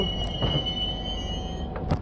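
Tamralipta Express on the Howrah to Digha line coming in to Ramnagar station: a sustained thin wheel squeal rides over a low rolling rumble, with a few sharp clanks and knocks.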